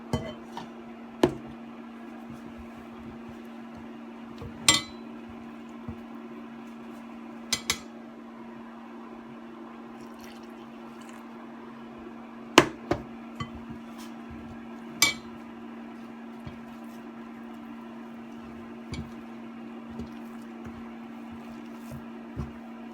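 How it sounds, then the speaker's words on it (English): Warm milk being slowly poured and stirred into boiled potatoes in a pot: sparse, faint clinks and taps of a utensil against the pot sound over a steady low kitchen hum, with no talking. "we're going to add slowly our milk"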